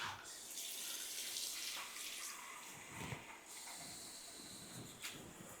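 Water gushes steadily from a kitchen tap into a saucepan while a Moroccan beef tajine with prunes is being prepared, giving a continuous, fairly loud splashing hiss with slight shifts in pitch as the pan fills.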